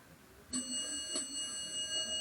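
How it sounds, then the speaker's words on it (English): A single bright chime from a 1916 Westinghouse traction elevator bell rings out and lingers with a sustained, ringing tone in a quiet space. "Let's listen to that dinner bell."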